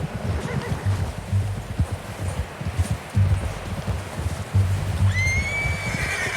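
A horse in the video game Red Dead Redemption 2 whinnies and snorts over rustling, shuffling movement and soft hoof sounds, with a brief high whistle-like tone near the end.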